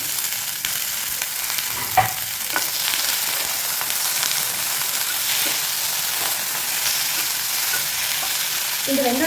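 Onion, garlic and tomato frying in a pan with a little salt: a loud, unbroken hissing sizzle runs throughout, with occasional light knocks and scrapes of stirring close by.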